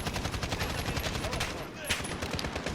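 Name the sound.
Spetsnaz conversion kit gun firing in video game Call of Duty Modern Warfare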